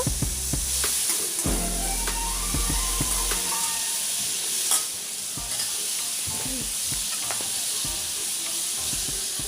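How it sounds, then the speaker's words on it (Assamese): Boiled chickpeas go into a hot pan of chole paneer masala gravy and are stirred, a loud close sizzle with repeated scraping and clattering of the spoon against the pan. "এতিয়া মই ইয়াতে সিজাই থোৱা বুটখিনি দিছো।"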